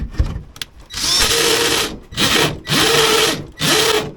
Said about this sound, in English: What you just heard there was my drill gears going.